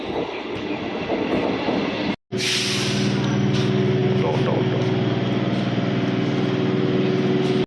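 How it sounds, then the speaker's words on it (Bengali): A passenger train on an evening local service rumbles steadily, with a brief dropout before a sustained low hum and rhythmic rolling noise as the carriage moves; no talking is evident. "ট্রেনে উঠে পড়েছি"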